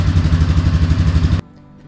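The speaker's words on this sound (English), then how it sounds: "we're going to fire up our machine and let it idle for 2 minutes" A motorcycle engine idles while warming up before an oil change with a stock oil filter, a steady, loud low rumble with rhythmic pulsing that cuts off abruptly near the end, leaving quiet room tone.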